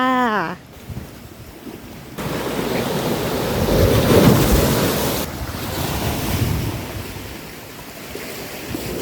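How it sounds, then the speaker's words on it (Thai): Waves breaking on a beach in Phuket, Thailand: a broad wash of surf that swells in the middle and then eases, mixed with rough wind buffeting the microphone, with no voices. "เราก็มาถึงหาดไตตรังบีชแล้วนะคะ"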